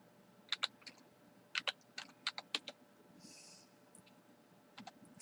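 Computer keyboard typing during a live gaming stream: a quick pair of taps, then a cluster of five or six crisp keystrokes, a pause and a few more sparse clicks, close and clear over a faint hum.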